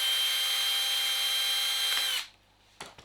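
A cordless power screwdriver runs steadily with a loud, high whine for about two seconds, then cuts off, leaving near silence broken by a couple of faint clicks at the end.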